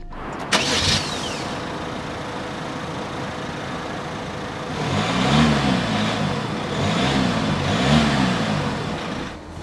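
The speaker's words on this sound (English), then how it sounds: "The first order of business, though, is starting up the 308." Peugeot 308 GT with a 1.5 HDI diesel, 2022 model, starting up: a brief crank and catch, then a steady idle that rises in a few pulsing revs, heard close and alone.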